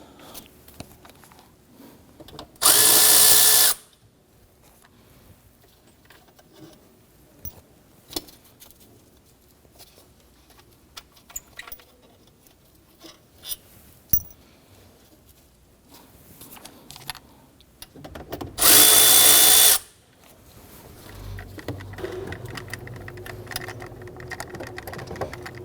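A power drill whirs in two short, loud bursts while removing intake manifold bolts on a 2011-2015 Kia Sorento, separated by quiet clinks and handling noises in a workshop.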